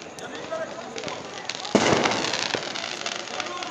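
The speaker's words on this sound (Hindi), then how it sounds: "घरों में बचे हुए पटाखों को लोगों ने खूब अच्छे तरीके से सेलिब्रेट किया।" Firecrackers burst at an evening community lamp-lighting celebration held like Diwali in Mau, India: a steady crackle of distant bangs with one louder, closer burst midway, over a background of crowd noise.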